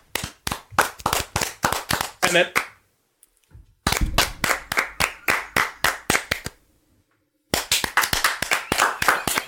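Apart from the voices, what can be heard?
clapping from the movie Birdemic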